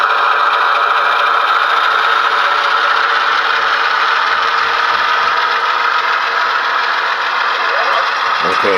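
A factory-stock Athearn model train locomotive runs with no momentum or modifications, giving a steady, loud, buzzing electronic chug with a rattling hum that holds evenly throughout.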